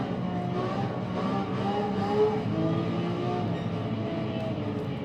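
A car accelerates in the racing video game Gran Turismo 7, its engine a steady droning whine with rising tones, moderately loud and continuous with no talk.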